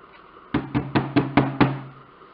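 A gesso-coated art board is knocked to shake off loose sand. There are six sharp, hollow wooden knocks in an even, quick rhythm, close and loud against a near-silent room.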